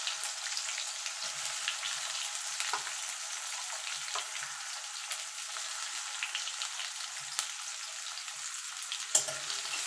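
Chopped onions fry in hot oil for chicken kosha, a continuous crackling sizzle at moderate level with scattered soft pops and light stirring clicks, alone without voices.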